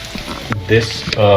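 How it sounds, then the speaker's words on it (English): Oil sizzles and crackles steadily in a pan as masala paste fries for a South Indian chicken curry, with a few stirring scrapes, close up and fairly loud. "I'll start frying the masala"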